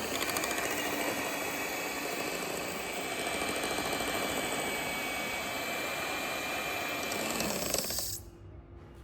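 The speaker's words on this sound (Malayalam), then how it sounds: "അപ്പോൾ നമ്മളെ ക്രീമൊക്കെ ഇത് നല്ലപോലെ ബീറ്റ് ആയിട്ടുണ്ട്" Electric beater whipping cream to a thick, cake-frosting texture: a steady, loud whirring motor hum that runs continuously for about eight seconds, then cuts off abruptly, leaving quiet room noise.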